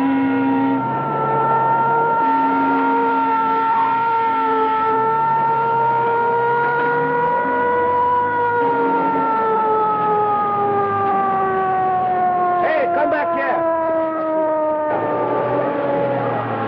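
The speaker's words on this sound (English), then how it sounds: "Ambulance coming." An ambulance siren wails close by in a steady, loud, continuous cycle, its tones slowly gliding downward as it moves, with brief rattling bursts near the end.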